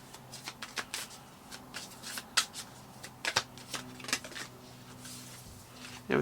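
Tarot cards being shuffled by hand, close up, with a run of crisp riffling bursts and soft slaps of the deck repeating at an irregular pace.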